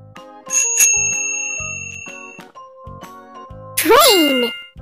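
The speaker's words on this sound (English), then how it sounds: "Bicycle." Bright bicycle bell rings out in a few separate dings with lingering metallic tones over light jingles, ending in a louder flurry of rapid rings.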